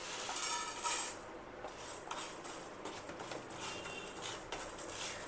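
Whole spices being dry roasted in a pan over a low flame, with soft scraping and clinking of a spoon against the pan, steady light stirring with brief louder clatters, close and quiet, no talking.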